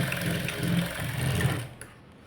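A sewing machine runs steadily as it stitches a blouse seam, a close, continuous mechanical whir that stops near the end, leaving a quiet tail.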